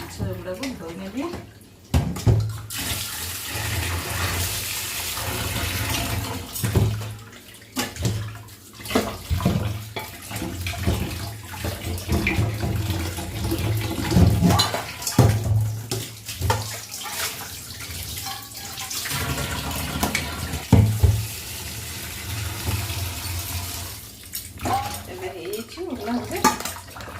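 Tap water runs and splashes in a kitchen sink while fish pieces are washed by hand, the flow rising and falling with handling under intermittent talk.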